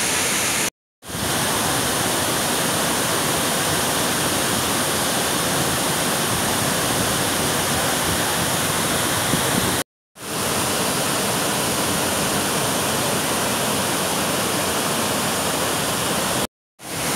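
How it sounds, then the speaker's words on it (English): A huge waterfall at Sarika in Thailand pours in a steady, loud broadband roar that fills the whole scene, broken only by a few brief cuts to silence. "Huge waterfall."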